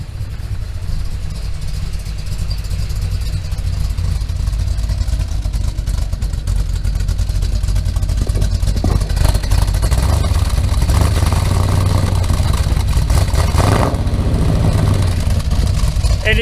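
A Chevrolet C3 Corvette with a freshly swapped engine runs loud and close, a deep, rough rumble holding steady and then swelling with revs near the end.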